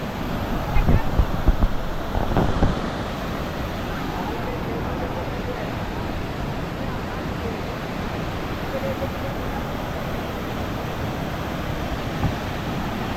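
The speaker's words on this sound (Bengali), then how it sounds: "এ হচ্ছে ঝর্ণা" Hirni waterfall in Jharkhand sends a constant, broad roar of rushing water that stays steady throughout, with a few brief bumps near the start.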